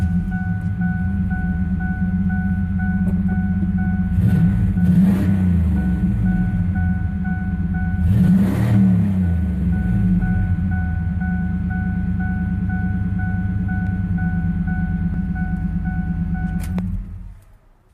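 A Ford Ranger pickup with a swapped-in 5.0 V8 idles with a steady, deep, even rumble that holds for most of the stretch before cutting off near the end.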